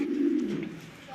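Big, top-quality pigeons in a loft give a low, rolling coo, loud at first and then fading over about a second, with faint background noise.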